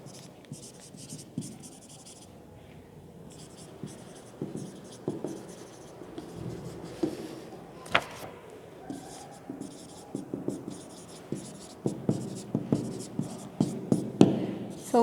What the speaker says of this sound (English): So we can now write the equation including this factor.